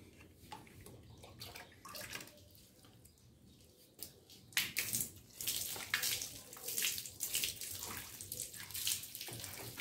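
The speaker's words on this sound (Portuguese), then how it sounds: "Aí, depois de deixar alguns minutos o produto agindo, vocês vão enxaguar." Running water rinses a cleaning product off a motorcycle's grab rails and rear luggage box, a steady broadband splash that grows louder and rougher midway with irregular bursts as the stream hits the surface.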